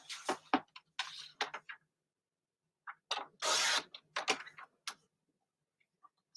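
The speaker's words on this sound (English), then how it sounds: "Let me cut this one quick." Cardstock is cut for a paper craft with sharp snipping and a brief rough slicing rasp, a few crisp close cuts in short bursts separated by silence.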